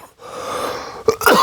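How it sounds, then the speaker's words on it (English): A man with a dry throat coughs close to the microphone, two short harsh bursts near the end after a steady, hissy background. "Hold on, I get a cough."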